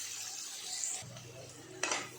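Chopped onion and slit green chillies stirred in a hot pan for a Bengali hilsa-head and water lily stem dish, giving a soft sizzle with a spoon scraping and clinking against the pan, one sharper clatter near the end.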